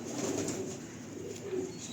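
Bateray pigeon cooing close by: a steady low, throaty coo that rolls on continuously with slight swells, over faint background hiss.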